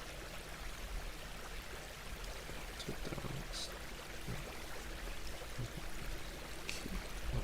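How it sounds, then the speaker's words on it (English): River and waterfall ambience, a faint continuous rushing wash of water with small splashy flickers, playing steadily throughout with no talk over it. "I recently decided to play waterfall, water music, river music"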